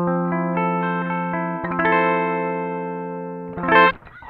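A Gibson ES-335 guitar played clean through a switched-off pedal in bypass, recorded direct: sustained chords and single notes ringing with clear attacks, ending in a brighter strummed flourish, with no voices.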